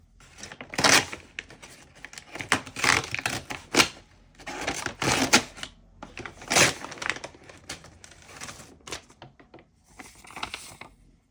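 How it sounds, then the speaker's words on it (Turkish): An Amazon shipping package being opened up close, with bursts of crinkling, tearing and rustling cardboard and plastic in irregular clusters, loud and alone with no talk. "Bugün bir Amazon paketi daha açacağım."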